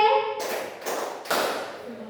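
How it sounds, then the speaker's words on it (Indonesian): A group claps hands in unison three times, sharp and close, with a voice heard briefly at the start. "Kalau saya bilang sore, tepuknya 3 kali."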